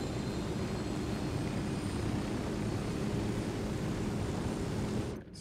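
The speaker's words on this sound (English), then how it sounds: "Let's take the chopper." The rotor and engine of a helicopter in Ghost Recon Wildlands roar in a steady, dense wash for several seconds, then die down at the very end.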